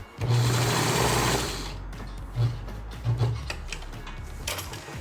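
A sewing machine runs basting stitches through the lining and pocket lining of a DIY surgical mask. It opens with a loud, steady whirring burst, followed by shorter stitching runs and rattles nearby with no talking.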